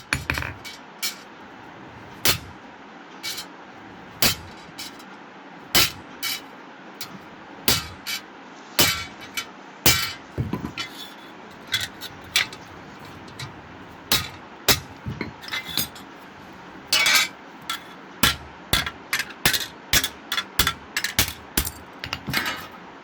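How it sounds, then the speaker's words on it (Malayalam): A blacksmith hammers an iron ring flat on an anvil. Sharp metallic clinks ring out one by one, steady at first, then coming faster toward the end, loud and close with no talking. "തട്ടിയിട്ട് അതിനെ ലെവൽ അടിക്കുകയാണ്."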